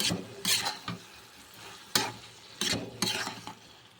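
A ridge gourd and soya fry curry is stirred in a pan. Repeated scraping strokes come in an uneven rhythm over a low, steady sizzle, close up and with nobody speaking.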